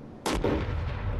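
One sharp, loud shot from a newly added gun in Fortnite, a hard crack followed by a short rumbling tail, close and alone.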